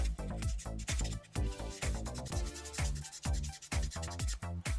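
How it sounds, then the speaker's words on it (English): Quick repeated rubbing strokes of a 3000-grit Tamiya sanding sponge smoothing Gundam model kit plastic, close up, rhythmic scratchy bursts with brief pauses. "with a Tamiya sanding sponge, 3000 grit, and that's just to smooth the plastic out"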